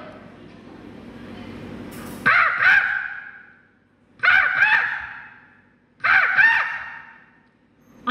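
A person mimics an angry crow in a mimicry contest. After a couple of seconds of talk come three loud, harsh caws, each a rising burst that fades, evenly spaced and close.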